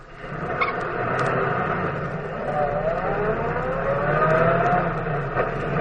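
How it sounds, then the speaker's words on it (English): A car engine runs and revs with a rising, whining pitch as the vehicle pulls away, a steady motor drone under brief tonal sounds. "Now, I'll start the car."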